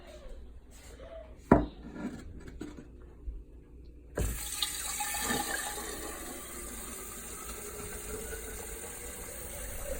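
Tap water starts running into a kitchen sink after a few knocks and clatters, then flows as a steady, fairly loud broadband rush that continues to the end with no talk.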